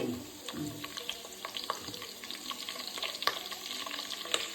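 Tempering spices sizzle and crackle in hot oil in a pan for a Maharashtrian masvadi curry, a soft, steady frying hiss with small scattered pops and occasional stirring scrapes, fairly quiet and close.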